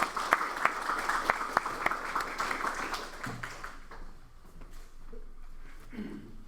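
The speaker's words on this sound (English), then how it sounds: "for those who are viewing this recording, you may have heard an applause" Audience at a candidate forum breaking into a few seconds of steady clapping that fades out after about four seconds, leaving a quiet room with faint murmurs.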